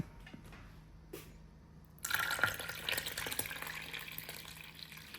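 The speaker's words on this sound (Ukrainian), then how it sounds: "І от заливаємо нашою заливкою перець" A thick sauce of sour cream, tomato paste and smoked paprika is poured over stuffed peppers in a pot. After quiet background, a sudden wet, splashy pouring rush starts and continues steadily to the end, with nobody talking.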